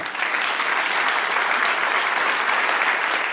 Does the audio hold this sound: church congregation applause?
yes